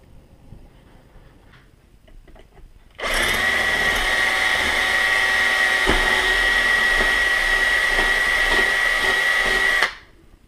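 A power drill bores holes through shoe soles for mounting crampon bolts, a loud steady whine running for about seven seconds after a quiet lead-in, then cutting off abruptly.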